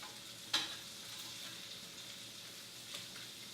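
Pancetta fries in a pan for carbonara with a faint, steady crackling hiss. A sharp scrape or clink from stirring stands out early, and a softer one follows near the end.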